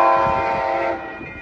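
An Amtrak Capital Corridor passenger train at the 98th Avenue crossing in Oakland sounds a loud, steady multi-tone horn blast that cuts off and fades into rumbling as the train passes nearby.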